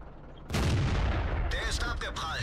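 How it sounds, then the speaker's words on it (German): Tank cannon fire from World of Tanks, with an M18 Hellcat tank destroyer in play: a sudden loud boom lands after a quieter lead-in and is followed by a rumbling tail and further sharp impacts. "Oh Gott, die Schüsse, Mann."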